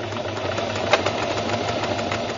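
Sewing machine stitching a buttonhole in denim, a steady fast mechanical whirring hum with a slight rhythmic knock, close and continuous, no talking.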